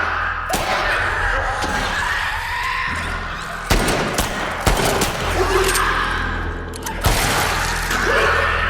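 Gunfire in the video game The Last of Us Part II, several sharp loud shots at irregular intervals over a steady droning game soundtrack, with no talk.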